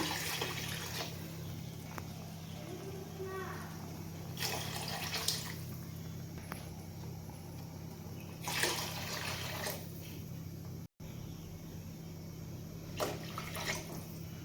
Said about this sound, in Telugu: ఇప్పుడు దీంట్లోకి అయితే వాటర్ యాడ్ చేసుకోవాలి